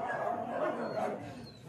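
Dogs at a mountain home bark and yip softly at a distance, a few quick calls under low background sound.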